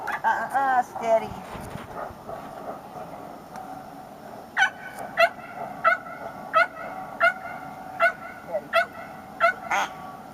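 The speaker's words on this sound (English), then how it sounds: "The barking puppy in the background." A puppy barks in the background in a regular string of sharp yips, while a person talks to a hunting dog being introduced to birds.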